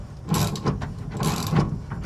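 Coil spring compressor spinning and tightening on a car coil spring, giving close, loud mechanical ratcheting and grinding clicks in short irregular bursts.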